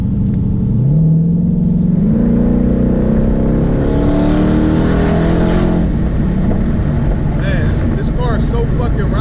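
A loud boosted Ford Mustang Coyote V8 engine with 100,000 miles rumbles close by, its pitch climbing as it revs up and then settling into a deep, steady growl, with voices near the end.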